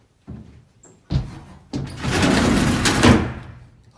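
A door on a 1974 Chevrolet P30 step van swings shut, a few sharp close-range knocks and latch clunks leading into a louder, sustained rattling thud that fades out.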